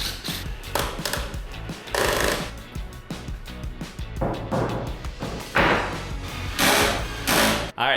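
A power driver backs screws out of a wooden coffee table build in repeated short bursts of buzzing whir separated by brief pauses and clunks, fairly close.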